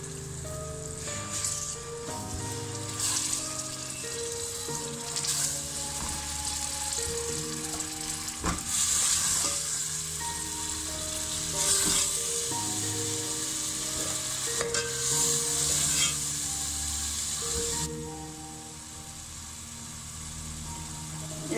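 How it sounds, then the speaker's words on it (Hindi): Tomato paste fries in masala for a lobia curry, with a continuous bubbling sizzle that carries on under steady background music. "एक मिनट के लिए अब इसको हम फ्राई करेंगे।"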